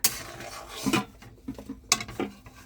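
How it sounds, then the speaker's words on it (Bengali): Pasta tips into a pan of white sauce with a few quick clatters and scrapes of utensil against metal, close and brief, with quiet gaps between the knocks. "তো এখানে দিয়ে দিচ্ছি পাস্তা"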